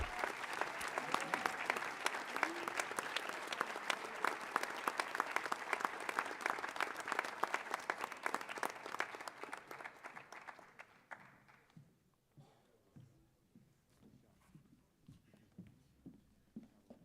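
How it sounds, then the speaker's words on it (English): Audience applause at a high school athletic awards banquet, a dense sustained clapping from a crowd indoors that tapers off and fades to scattered claps and quiet. "Let's have another round of applause for everybody thus far."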